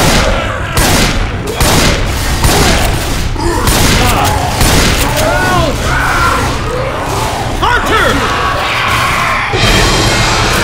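Gunfire in Left 4 Dead 2 during a hectic fight, with loud bursts of shots and booms amid yelling and crowd-like chaos, continuous and close throughout.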